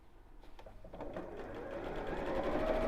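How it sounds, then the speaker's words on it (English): A sewing machine stitches fabric binding along a folded crease line on a bamboo-handled bag. Its rapid, even whir starts softly and grows steadily louder and denser, running alone without talk. "I'm just sewing along the first crease line that I made."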